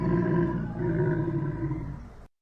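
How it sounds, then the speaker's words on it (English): Scar's roar from The Lion King, a lion-style roar blended with tiger roars and a growling camel, comes as one loud, close, sustained roar lasting about two seconds before cutting to silence. "Disney also mixed in tiger roars and, wait for it, a growling camel."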